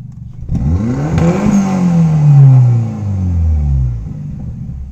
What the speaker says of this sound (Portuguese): Vamos acelerar ele pra ver quanto tempo demora agora pra subir até o final.